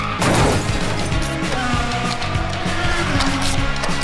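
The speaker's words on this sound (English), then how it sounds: "White police car crashed." Plastic clattering and rattling of small Hot Wheels toy cars, including a police car and a NASCAR, rolling and colliding on a backyard track, with a sharp crash near the start and continued busy mechanical rumble.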